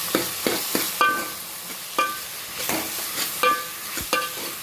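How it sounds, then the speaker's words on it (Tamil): Tomatoes sauté in a pan for a fish curry, a soft sizzle under repeated clinking scrapes of a spoon against metal as they are stirred, several distinct knocks spaced through the stretch. "நெக்ஸ்ட்டு தக்காளி போட்டுக்கலாம். போட்டு நல்லா கிண்டி விடணும்."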